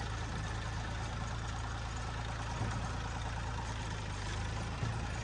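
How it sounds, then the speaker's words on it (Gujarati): A tractor engine idles with a steady, low, droning hum that stays even and unbroken throughout, with no voices over it. "ટ્રેક્ટર ચલાવવા આવી ગયો."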